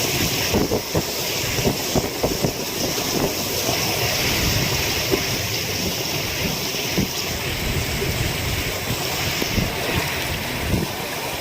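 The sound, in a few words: strong wind during typhoon at sea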